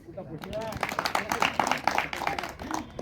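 Students clap in a classroom during a team quiz at a Veer Bal Divas celebration, a brief burst of close, uneven hand claps mixed with voices and talk.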